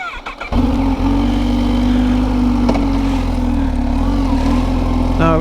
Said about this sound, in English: So let's start up the lovely ZH2, go for a ride